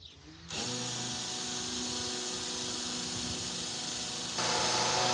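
A cordless drill on a low battery runs during van roof deck work, whirring in a steady, loud whine that steps slightly higher near the end, with no talking.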